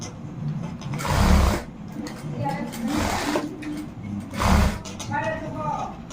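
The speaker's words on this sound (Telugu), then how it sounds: "ఇట్లా పెట్టేసుకొని దీని పక్క నుంచి కుట్టు అనేది వేసుకుంటూ రావాలి." A sewing machine stitches a zipper onto a lehenga in a steady close whirring run with two louder surges, while someone talks over it.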